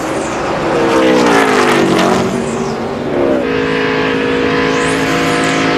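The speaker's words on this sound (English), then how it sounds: "revving that engine, slipping the clutch, trying to get the car rolling so he wouldn't kill the engine" NASCAR race car engine revving hard while the clutch slips during a 2002 Pennsylvania 500 pit stop, loud and close, pitch climbing and dipping with a brief drop midway before surging again.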